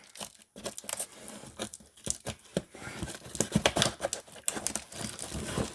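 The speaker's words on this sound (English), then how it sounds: "Let's cut her open." A mail package holding VHS tapes being cut and torn open by hand, with irregular crinkling, ripping and crunching bursts of cardboard and plastic wrap, close and moderately loud, with no talking.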